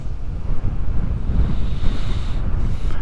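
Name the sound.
sea waves splashing up on the Suffolk coast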